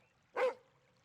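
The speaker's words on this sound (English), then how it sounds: "It's a friendly dog." A single short bark from a friendly dog, fairly faint and heard alone against a quiet background.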